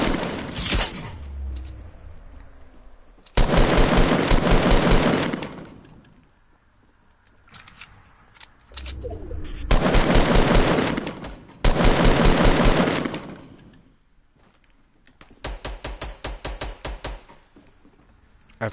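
Fortnite gunfire in bursts: four loud volleys of rapid automatic shots, separated by quieter stretches of lighter clicks and handling noise, with a final burst of distinct individual shots.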